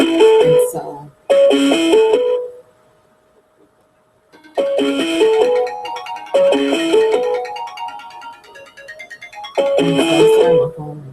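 A mobile phone ringtone plays loud and close as a melodic repeating tune, sounding in three bursts separated by short pauses.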